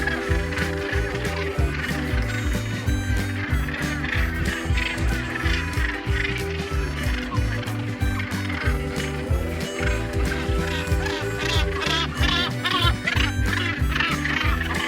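Northern gannets call from a crowded nesting colony on Ile St. Bonaventure, roughly 45,000 pairs with nests within two feet of each other, a dense, constant din of harsh overlapping croaks and honks that fills the scene steadily.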